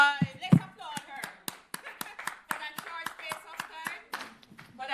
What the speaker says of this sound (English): Let's applaud her